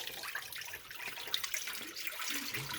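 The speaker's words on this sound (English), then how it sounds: "Now, let's rinse out the water." Running water rinses live crawdads being washed by hand, a soft, steady splashing and trickling like a tap or sink, faint and continuous with no talk.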